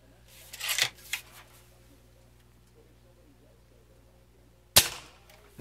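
A Crosman F4 air rifle fires pellets, giving two sharp cracking pops spaced several seconds apart over a quiet background, with a quick lighter click just after the first shot.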